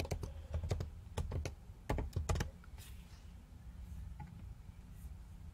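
Fingers type a name and password on a computer keyboard. Quick bursts of close, crisp key clicks come in uneven runs, then thin out to a few scattered taps.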